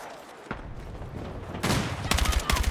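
Gunfire in the video game Battlefield: rapid automatic bursts of shots crackle loudly near the end, preceded by a single sharp shot and a heavier blast amid ongoing battle noise.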